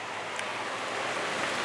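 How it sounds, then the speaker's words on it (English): Steady rain falls outdoors around a Weber grill with a rotisserie, a dense, even hiss that holds constant throughout with no talking. "Raining hard, stops raining hard, but it still rains."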